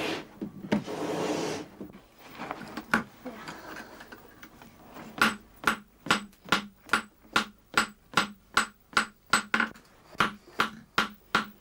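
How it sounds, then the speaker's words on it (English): An Iron Age smith hammers hot iron on a tiny anvil, striking about twenty sharp, evenly paced metallic blows close by after some quieter rustling and a brief burst of noise. "The smith hammers the iron into shape on a tiny anvil."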